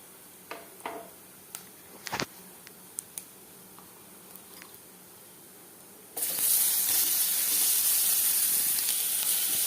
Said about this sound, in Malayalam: ഇനി ഇതൊന്ന് ചെറുതായിട്ടൊന്ന് വഴറ്റിയെടുക്കാം കേട്ടോ. ഇനി നമുക്കിതിലേക്ക് നമ്മൾ കട്ട് ചെയ്ത് വെച്ചിരിക്കുന്ന സവോള ചേർത്ത് കൊടുക്കാം.